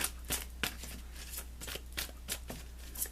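Tarot guidance cards are shuffled up close in a quiet room, a series of quick riffling flutters and soft slaps repeating roughly every half second over a faint low hum.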